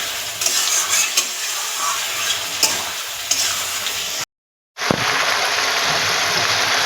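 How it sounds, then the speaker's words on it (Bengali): Meat and spices sautéing in a wok for ghugni, a steady close sizzle and frying hiss with occasional scrapes of stirring, broken by a brief pause before the sizzle resumes. "মাংসটা এটা দিয়ে মশলাটা দিয়ে এবার খানিকক্ষণ কষবো।"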